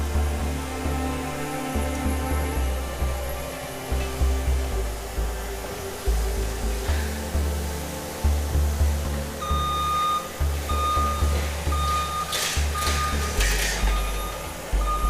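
Outdoors, a forestry mulching machine clears brush and turns over the earth, its diesel engine droning steadily and loudly with rhythmic surges and intermittent high beeps, with no talk.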